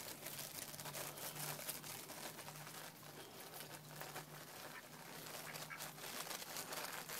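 Geese honk and quack at dinner time, their calls fairly faint and repeated in short bursts over a steady background hiss.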